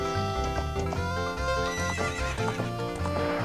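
Epona the horse neighs in the video game The Legend of Zelda: Ocarina of Time, a loud whinny with clip-clop hooves layered over steady game music, no talking.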